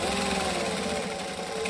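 A sewing machine runs a continuous, even stitching whir while sewing fabric for a bag with a drop-in lining, steady and close throughout.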